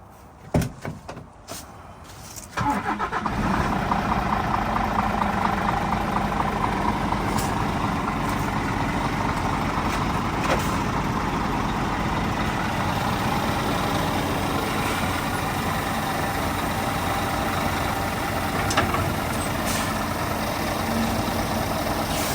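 A semi truck's engine idles steadily and loudly as the tractor pulls out from under a trailer after the suspension is lowered, a constant diesel rumble that starts after a few seconds of clunking and hissing.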